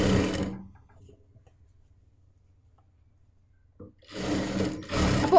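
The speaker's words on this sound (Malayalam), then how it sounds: "ഇനി നമുക്ക് ഒന്നും കൂടി ഈ അറ്റത്ത് വെച്ചിട്ട് സ്റ്റിച്ച് ചെയ്യാം." A domestic sewing machine stitches along the edge of an old dupatta being made into a churidar, with a steady whirring run at the start and two more bursts near the end after a quiet pause.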